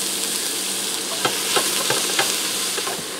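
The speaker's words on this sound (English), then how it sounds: "I'm going to saute these for a few minutes until they start to soften up." Sliced mushrooms and onions sauté in a pressure cooker with a loud, steady sizzle and a few soft stirring taps, and no talking.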